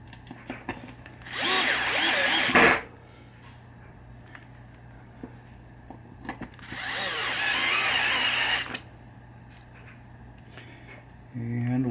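Power drill driving screws into the ball saucer of a 1976 Williams Grand Prix pinball machine, two loud whirring bursts of about a second and a half each, separated by quieter handling and a steady low hum.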